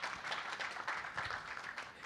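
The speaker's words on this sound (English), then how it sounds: "A warm round of applause to our panelists as we close the session." An audience at a panel session for an IFC side event applauds the panelists, a brief, dense patter of many hands clapping at moderate distance, steady throughout.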